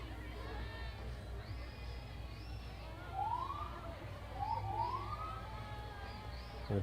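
An ambulance siren from the Anderson County EMS in the Clinton Christmas Parade wails in rising sweeps at a middling distance over crowd chatter, with a person talking.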